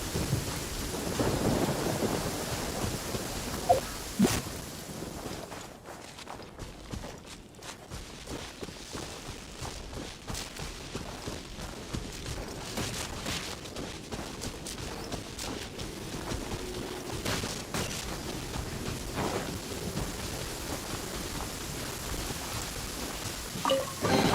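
A thunderstorm with heavy rain in the video game Genshin Impact: constant rain hissing on surfaces, with deep rolling thunder and sharper cracks rising and fading across the scene.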